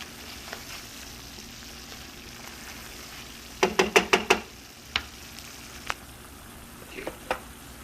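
Flour cooks in a pan for French onion soup, a soft continuous sizzle close by, interrupted midway by a quick run of sharp utensil knocks and a few later taps.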